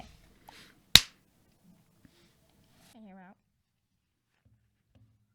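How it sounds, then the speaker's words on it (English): A single sharp hand clap rings out close by during a podcast setup, followed by near silence with faint, low murmuring voices. "So clap and then wait 2 seconds."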